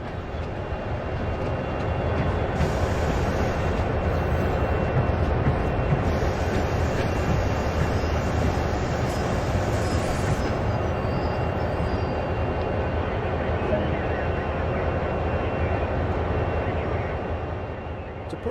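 A CSX heavy-haul freight train in the Train Sim World game rolls to a stop, a steady, loud rumble of engine and rolling wagons that holds throughout with faint high brake hiss, no speech over it.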